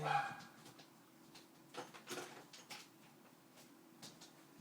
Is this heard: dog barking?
yes